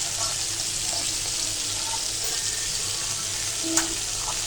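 Bata fish fries in a pan with a steady close sizzle and light crackle, a brief clink near the end, no talk over it.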